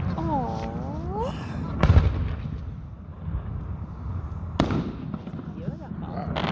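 Fireworks bursting directly overhead at a public display, heard as a few sharp booms with crackling tails over a steady low rumble, while onlookers talk and exclaim nearby.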